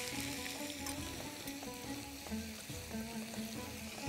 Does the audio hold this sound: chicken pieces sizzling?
yes